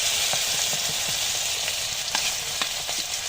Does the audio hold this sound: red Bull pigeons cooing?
no